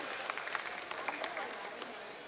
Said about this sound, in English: can they hear a round of applause?